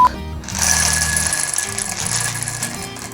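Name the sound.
Ikawa home coffee bean roaster running after power-on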